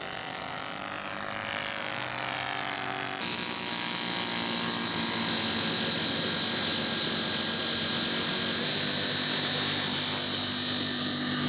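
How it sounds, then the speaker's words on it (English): An electric Spacewalker scale model aircraft taxis out for takeoff at a scale aircraft show, a steady high motor and propeller whine that holds throughout and grows slightly stronger partway through, with no talking. "Nolan taxiing out for his takeoff for Saturday morning"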